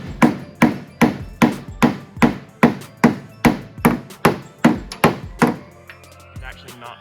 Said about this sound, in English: I'm gonna work a lot of this buckle out with this pick hammer